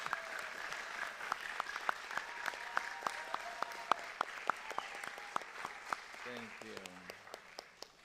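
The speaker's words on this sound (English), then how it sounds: "Yeah, go on, clap again, go ahead." Audience applause at a school board reorganization meeting, steady crowd clapping with sharp individual claps standing out, lasting most of the clip and tapering as a voice begins to speak near the end.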